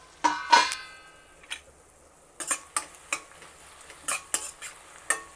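A spoon stirs ground masala paste into softened tomato in a pan, with a few close scraping strokes, an early burst, a pause, then a run of short uneven scrapes and clinks, and no voices.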